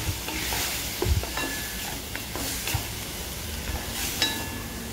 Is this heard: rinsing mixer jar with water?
no